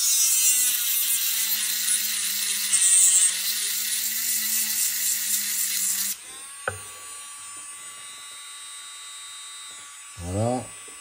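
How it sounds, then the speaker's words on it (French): A fast-spinning drill bit engraves a guilloche pattern into a knife blade, a loud, steady, high-pitched whine running for about six seconds before cutting off, leaving low hum and a brief voice near the end. "quand on fait un guillochage, il faut qu'elle tourne vite quand même la mèche."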